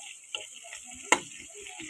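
Onion frying in hot oil in a pan gives a faint, steady sizzle, broken by a few quick clicks and a sharp tap of a utensil.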